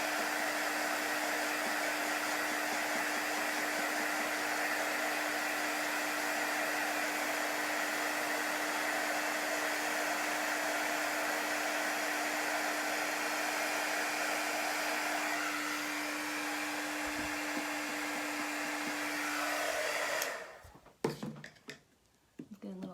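A hair dryer drying chalk paste on a gnome door hanger, a loud, steady whooshing blow with a constant motor hum that runs close for about twenty seconds before it cuts off into handling noise.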